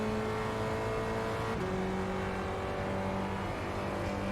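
Spec Racer Ford Gen3 race car engine in the iRacing simulator, revving at a continuous high pitch with two sudden drops where it shifts gears, loud and steady with no talk.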